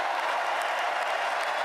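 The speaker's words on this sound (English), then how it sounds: "Why are they clapping for that?" An audience applauds during a presidential inauguration speech with a steady, even wash of clapping that sounds somewhat distant. It stays at the same level throughout, with no speech rising above it.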